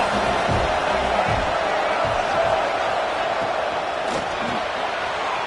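Stadium crowd noise in College Football 26, a dense, steady roar of a packed stadium swelling across the whole stretch, with faint thumps and a brief cheer-like rise near the end.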